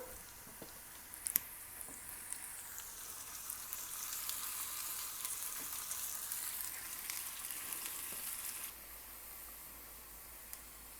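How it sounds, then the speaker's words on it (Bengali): Onions fry in oil for a bagar tempering, a soft, steady hiss that is fairly quiet and close, with a few light clicks and a sudden drop in level near the end. "এখানে আমাদের বাগারের পেঁয়াজটা হইতেছে।"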